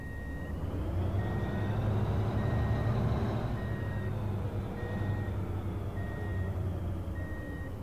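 Reversing beeps of a truck backing into a parking spot in Truck & Logistics Simulator: a steady, evenly spaced beep over the low idle rumble of the truck engine.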